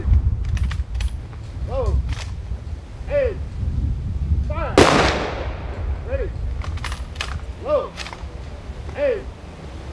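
At an outdoor Veterans Day ceremony, an honor guard fires a single loud, sharp rifle volley. Shouted drill commands come before and after it over a steady outdoor rumble.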